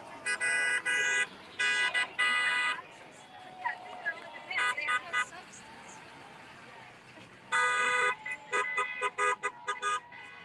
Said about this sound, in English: So as cars are leaving, lots of honking going on.